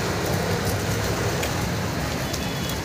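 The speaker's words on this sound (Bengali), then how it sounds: "দেখছো কিরকম বৃষ্টি?" Heavy rain pours down in a dense, unbroken roar, loud and close, with the constant patter of drops on surfaces filling the whole moment.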